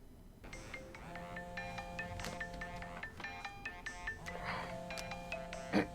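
A phone ringtone in a movie plays a bright, repeating melodic chime pattern in clear bursts, sounding close and steady against a quiet background.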